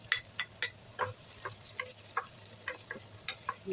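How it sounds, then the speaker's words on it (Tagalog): Onion and garlic sautéing in hot oil in a home kitchen, with soft sizzling and a steady run of light spatula taps and scrapes against the pan, fairly quiet and close. "Pag nagigisa ako guys, inuuna ko yung sibuyas kasi madaling matutong yung bawang."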